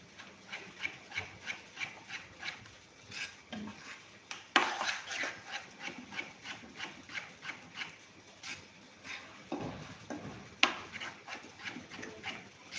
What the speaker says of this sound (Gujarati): હવે આપણે એકદમ સરસ મિક્સ કરી લેશું